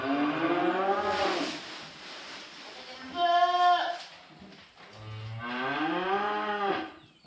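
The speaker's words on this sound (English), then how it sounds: "You can hear some of those weaned calves in the background." Weaned calves bawl on a farm, several long drawn-out moos rising and falling one after another at moderate distance, with some background noise between calls.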